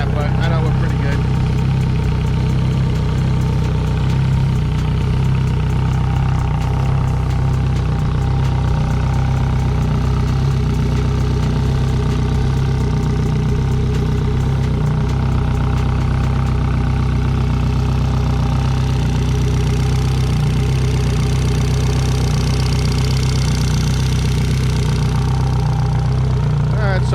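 Yamaha F115 outboard motor idling steadily while it warms up, a loud, constant low engine drone with a faint knocking texture that runs unbroken throughout.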